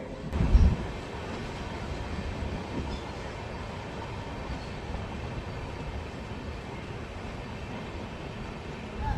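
Amrit Bharat Express (Erode–Jogbani service) rolling into Katpadi Junction: a steady, broad rumble of rail wagons in motion with a brief louder thump near the start, continuous and fairly close throughout.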